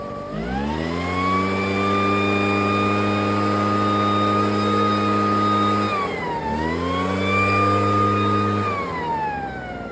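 A backpack leaf blower engine runs steadily at full throttle, a loud, close whine with strong harmonics that dips briefly around the middle and then climbs back to max RPM, with no talk over it.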